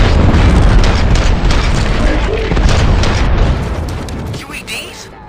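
Booming gunfire and explosive bursts rumble and crack through a dense, noisy action scene in the video game RoboCop: Rogue City, loud and continuous before tapering off, with a voice speaking over it.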